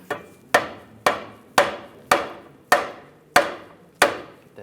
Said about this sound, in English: I'm just gonna use a rubber mallet